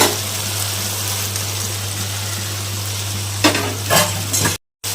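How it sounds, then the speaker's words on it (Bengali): Potatoes fry in a spiced masala in a pan, giving a steady close sizzle over a low constant hum, with a couple of louder stirring scrapes near the end before a short break. "আলু দিয়ে এখন আবার ভালো মতো কষে নেব।"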